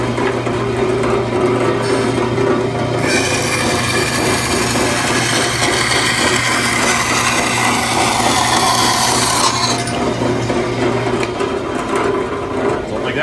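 Bandsaw slicing through cedar to shape a goose decoy bill, a steady motor hum with a brighter, hissing cut that swells for several seconds in the middle and then fades back to the idling whir.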